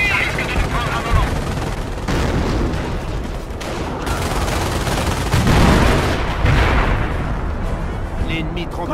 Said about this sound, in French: On essuie des tirs!